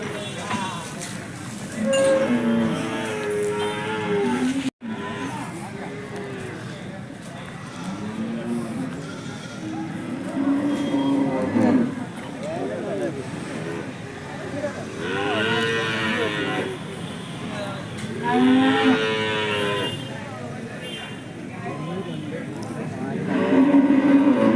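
Calves, cattle and goats at the busy Chattiparamba livestock market call out with repeated drawn-out moos and bleats, some near and loud, amid steady crowd murmur and voices throughout.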